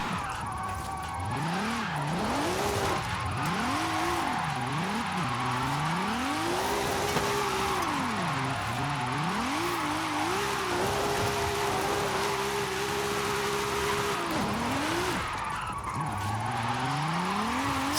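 A racing engine, a 2JZ swapped into a Nismo replica in Forza Horizon 5, revs up and down in sweeping waves as tires squeal through long slides, loud and continuous.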